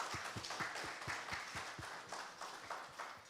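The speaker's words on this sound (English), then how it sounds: "A big round of applause for the panelists." Audience applause for panelists at a conference session, soft and distant, with individual claps ticking out in a quick, fairly even rhythm against a thin room wash.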